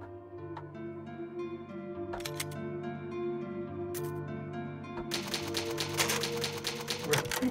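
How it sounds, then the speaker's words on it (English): Typewriter used as the save point in the Resident Evil remake video game, heard as quick clustered mechanical clacks and key strikes over a sustained low musical background. "An old typewriter. You can save for progress."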